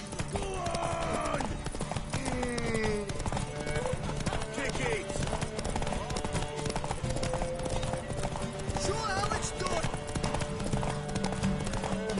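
Steady clip-clop of hooves from a horse in The Witcher 3, with an occasional neigh, set against busy game music and voices talking throughout.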